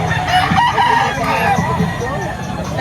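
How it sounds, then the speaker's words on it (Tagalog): A rooster at a poultry market in Padre Garcia, Batangas crows loudly and close by, with someone talking over it. "Anong tawag sa manok na gayan?"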